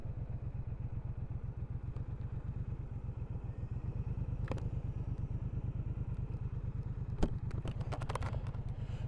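A 2024 Speedmaster 1200 motorcycle, brand new and still running in, pulls along on the road at a steady throb. The low, even engine pulse is heard close throughout, with a few light clicks and knocks toward the end.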